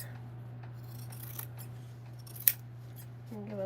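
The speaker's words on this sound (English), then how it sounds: "Alright, so we're going to trim the seam allowance." Scissors snip through the fabric seam allowance during garment sewing, a few soft cuts and one sharper close snip over a steady low hum, with no talking.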